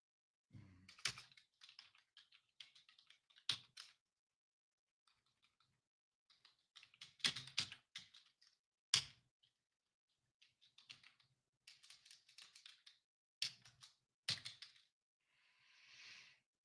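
Keys clatter on a computer keyboard as a note is typed, coming in short bursts of quick taps separated by pauses, quiet and close.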